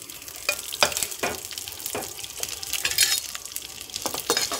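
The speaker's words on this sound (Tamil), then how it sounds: "எல்லாம் நல்லா பொரிஞ்சதும் வெங்காயம் கறிவேப்பிலை மிளகாய் மூணையும் சேர்த்திக்கலாம்." Onion, curry leaves and chillies fry in hot oil in a pan, a steady crackling sizzle broken by repeated scraping stirs of a spoon, close up with no voices.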